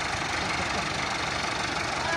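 A 385 tractor idles close by with a steady, rough low rumble and engine knock that holds evenly for the whole moment.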